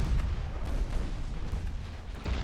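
Rumbling, booming naval gunfire from warships in the game Ultimate Admiral: Dreadnoughts, a dense continuous low roar of distant salvos with a few sharper thuds standing out near the start and end.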